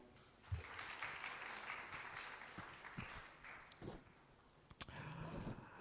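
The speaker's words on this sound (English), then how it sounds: "a big round of applause for Malaika Amir" Faint, distant applause from a panel discussion audience, a steady wash of clapping that carries on for several seconds with a few louder claps standing out.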